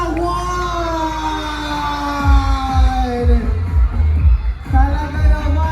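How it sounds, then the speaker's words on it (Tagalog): A crowd shouts and cheers at the Pulilan carabao festival, with loud whoops and yells over the throng. Rhythmic drumming joins partway through, over a sustained tone. "Sigawan!"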